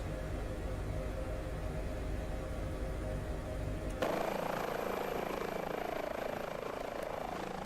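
A helicopter lifts off in a flight simulator game, its steady rotor and turbine drone filling the clip, then shifting abruptly to a brighter, hissing engine whine midway as power rises, continuous and loud.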